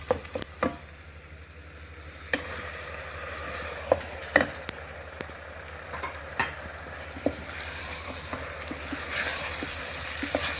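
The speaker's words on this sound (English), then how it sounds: "And mix it well and get all the sides, and we are going to fry this mixture for a little bit." Tomato and onion masala mixture frying in a pan for Instant Pot chana masala, a steady low sizzle broken by sharp, irregular scrapes and knocks of a spoon as it is stirred, the hiss swelling louder toward the end.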